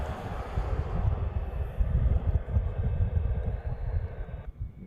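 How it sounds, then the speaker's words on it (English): An ANA Boeing 787 Dreamliner airliner arriving from Tokyo at Honolulu, a loud low rumbling engine roar with wind buffeting that holds steady and then drops off abruptly at the end. "It is a Dreamliner coming in from Tokyo."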